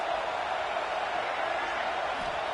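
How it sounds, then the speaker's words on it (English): Stadium crowd noise in the College Football 26 video game forms a constant dense roar, loud and unbroken, with no distinct cheers standing out. "This crowd trying to make life miserable for this offense."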